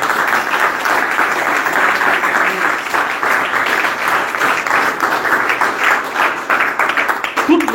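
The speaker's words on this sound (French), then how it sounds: "Applaudissez pour le Seigneur." Loud congregation applause in a church, thick continuous clapping for the Lord with voices mixed in, keeping an even intensity from start to finish.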